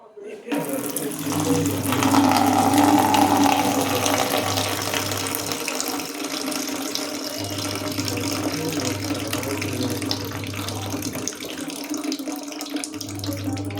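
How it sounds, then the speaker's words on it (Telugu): Steady running water pours out continuously as soaking water is drained off poha (flattened rice), a close, even splashing stream with a low hum beneath it. "ఇప్పుడు నీళ్ళు పంపేసుకుందాం"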